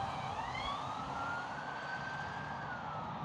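A police car speeds past on a quiet country road, its wailing siren sweeping up and down at moderate distance with traffic rumble beneath.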